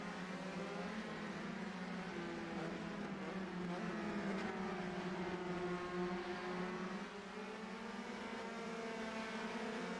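Race cars lapping the Hockenheimring in a racing video game, a continuous high engine drone with shifting pitch as cars hold speed down the front stretch, fairly faint throughout.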